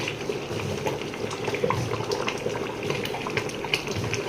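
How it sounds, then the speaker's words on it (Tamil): Rice for biryani boils in a pot of water, giving a steady, close bubbling and rushing wash of liquid that carries on without a break and with no voices. "அரிசி போட்டு இப்போ ஒரு கொதி வந்துட்டு"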